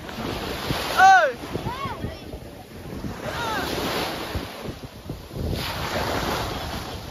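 Sea waves wash onto a beach in La Union, a steady broad roar of surf with wind buffeting the microphone; a brief voice sounds near the start.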